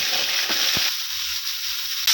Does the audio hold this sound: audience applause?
no